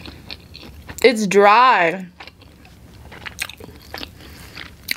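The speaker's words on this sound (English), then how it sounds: "another bite of this waffle sandwiches from Burger King" Someone bites and chews a Burger King waffle breakfast sandwich up close, with soft mouthy crunching and smacking throughout and a brief spoken remark near the start.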